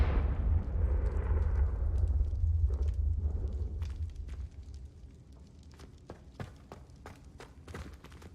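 Confringo fire spell exploding in Hogwarts Legacy, a heavy rumbling blast that swells for several seconds and fades, followed by scattered sharp crackles and pops, with no talking.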